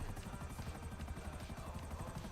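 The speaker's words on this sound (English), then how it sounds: "The tiny helicopter gets used for one of the Agent ULP mission" A tiny helicopter in a video game gives a steady, dense rotor whir with a fast rhythmic chop, continuous and fairly loud throughout, with no talking over it.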